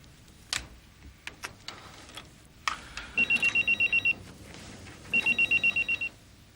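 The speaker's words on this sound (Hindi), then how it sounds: "किसका फोन?" A telephone rings in two bursts of rapid electronic trills, preceded by a few scattered clicks and taps.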